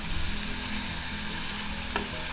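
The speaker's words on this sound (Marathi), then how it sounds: "तेल तापलं आहे, आता मी याच्यामध्ये कांदा घालते." Onion and crushed garlic cloves frying in hot oil in a home kitchen while cooking a Konkan wild-vegetable bhaji, a steady close sizzle with no talk.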